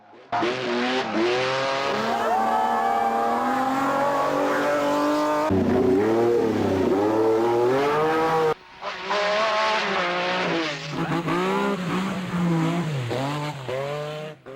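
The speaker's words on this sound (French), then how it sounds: "Écoutez-moi ce son." A Lancia rally car engine revs hard and loud for the whole stretch, rising and falling in pitch with throttle blips, up close and alone, with a brief break midway.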